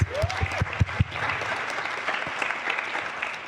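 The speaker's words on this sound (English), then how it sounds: "Let's give Director Porter a round of applause." An audience at a panel discussion on gun violence claps for an award-winning alumnus. A few loud, distinct claps open the applause before it spreads into dense, steady clapping that holds to the end.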